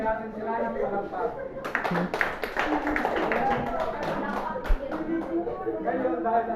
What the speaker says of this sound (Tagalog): bigyan natin sila ng palakpak.